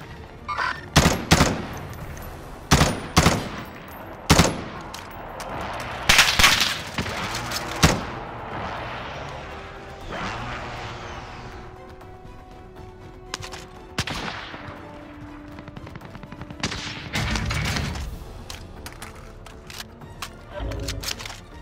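Gunfire in Call of Duty Warzone crackles in loud bursts and single shots, dense at first then thinning into scattered distant pops over a rumbling background.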